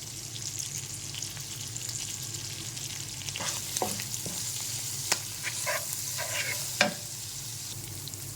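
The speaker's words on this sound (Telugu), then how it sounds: "అల్లము వెల్లుల్లి పేస్టు పచ్చివాసన బయటగా బాగా వేగిపోయింది" Ginger garlic paste with curry leaves, turmeric and salt sizzles steadily in a pan, with a constant frying hiss and a few scraping stirs partway through.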